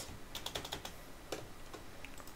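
A short run of light, close taps on a computer keyboard sits over a steady background hiss, with a few clustered clicks and scattered single keystrokes.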